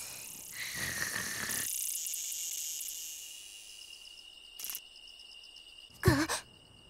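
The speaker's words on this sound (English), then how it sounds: "Listening to the cicadas always puts me to sleep." A high, buzzing cicada drone in an animated series, loud at first and then fading, with short bursts of chirring returning later over quiet background.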